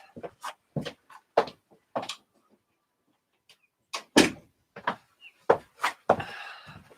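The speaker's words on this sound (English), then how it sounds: "I'm just going to close the door" An indoor door is being closed, giving a string of sharp clunks, knocks and latch clicks. The sounds are close and moderately loud, with short silences between them.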